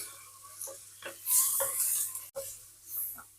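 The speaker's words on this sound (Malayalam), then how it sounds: "ഇഞ്ചി വെളുത്തുള്ളി ചെറിയുള്ളി ചതച്ചത് ഇട്ടു കൊടുക്കുക" Crushed ginger, garlic and small shallots tossed into hot oil with whole spices in a frying pan, stirred with brief scraping strokes and a soft sizzle, close and steady with no voices.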